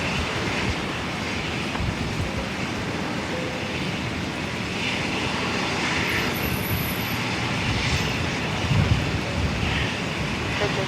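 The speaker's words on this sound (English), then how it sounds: "Now the Velocity 737-800 operating Velocity 958 down to Sydney, and it has begun its roll" A Velocity Boeing 737-800 beginning its takeoff roll at Brisbane Airport, bound for Sydney, a steady broad engine rumble heard from a distance, continuous with no clear speech.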